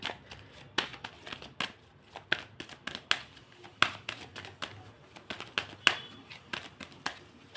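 Tarot cards being handled and shuffled in a quiet room, a run of quick papery slaps and flicks in an uneven rhythm, close and moderately faint.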